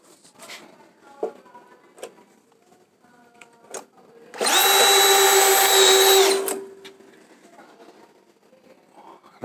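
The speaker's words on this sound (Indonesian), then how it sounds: "Ini saya pakai speed 1 dulu ya. Ini posisi drill. Kita coba dulu." An electric drill fitted with a screwgun adaptor spins up for about two seconds, driving a screw with a loud close whine that ends abruptly. Softer handling clicks and taps come before and after it, and no one speaks.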